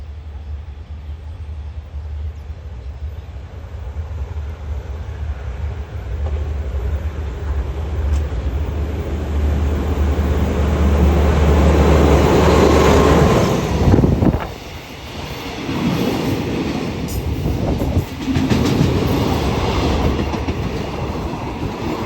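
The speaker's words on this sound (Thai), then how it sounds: "นี่นะครับรถสินค้ายามบ่ายนะครับ ขบวนเจ็ดเจ็ดแปด" Freight train 778, hauled by Alsthom diesel locomotive 4224 of the State Railway of Thailand, passes by near Hat Yai Junction. A loud, continuous rumble and clatter of wagons builds over about twenty seconds with wind buffeting the microphone.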